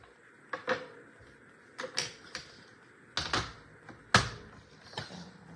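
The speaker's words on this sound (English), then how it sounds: "we're gonna get our paper trimmer out" Paper trimmer slicing through cardstock at a card-making class, giving a series of sharp clacking cuts and snaps in irregular bursts, close and fairly quiet with no talking.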